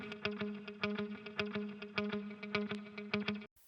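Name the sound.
electric guitar with effects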